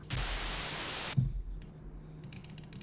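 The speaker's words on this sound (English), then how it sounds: "Serum actually has like very cool noise samples" A burst of bright white noise from the Serum synthesizer holds steady for about a second, then stops abruptly, leaving faint clicks and low hum.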